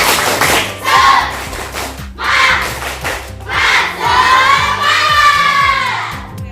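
A school class does a rhythmic spirit clap, with bursts of group clapping and shouted chants in several loud waves separated by short pauses.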